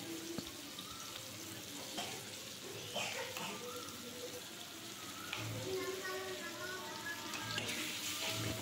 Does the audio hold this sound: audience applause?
no